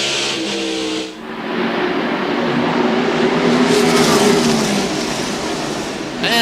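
NASCAR stock cars roar past at speed at Darlington Raceway during the 1995 Mountain Dew Southern 500, a loud, close, sustained engine howl that swells and shifts pitch as the cars sweep by.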